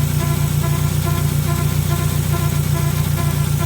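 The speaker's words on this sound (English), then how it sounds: "when the engine RPMs go down, the whirring is now at a slower pace" A project car's engine runs steadily at low RPM, giving a loud, close, even whirring drone with a regular pulsing rhythm and no voices.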